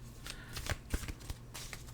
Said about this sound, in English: Here, let's give it another shuffle.